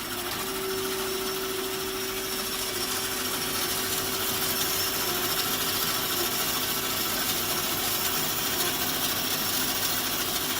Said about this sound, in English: Now it's feeding forward. You see the rear vise coming forward.